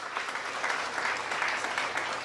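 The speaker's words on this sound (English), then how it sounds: "How about another round of applause for the mayor of Pioneer Village, Gary Emsweller, and all the great volunteer" A crowd at the Indiana State Fair applauds outdoors in Pioneer Village, with steady, moderately loud clapping and no speech over it.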